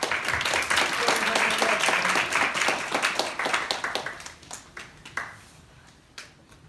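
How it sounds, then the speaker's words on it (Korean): An audience at a church information session for an American founding and Christian history tour applauds to welcome a missionary speaker. The dense clapping fills the room and then thins out and fades away. "박수로 맞이하겠습니다"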